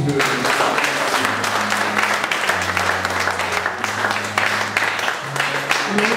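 A church congregation claps continuously in a steady wash of applause, with sustained musical tones underneath throughout.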